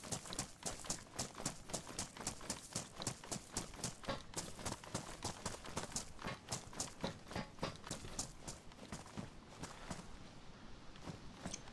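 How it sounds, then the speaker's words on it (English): Rapid steady footsteps of a running character in a video game, a continuous quick thudding rhythm at moderate distance, fading slightly toward the end. "I hear footsteps, and I'm like, are those mine?"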